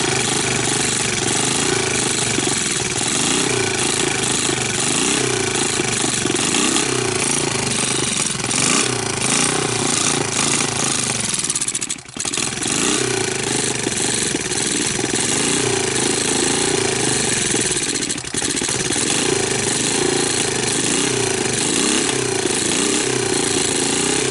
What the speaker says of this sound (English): I just started it with the choke on.